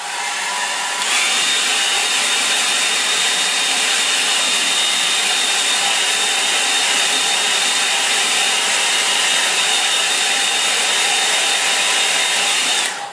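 A hair dryer blows on wet acrylic paint, starting with a click and running as a loud, steady whirring drone for about twelve seconds before cutting off.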